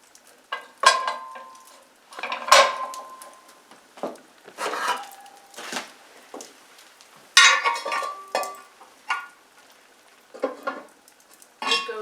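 A metal pan of gingerbread cookies handled at an open hearth with hot coals, giving a series of scraping, clanking knocks and rattles in irregular bursts, close and fairly loud, with no talking.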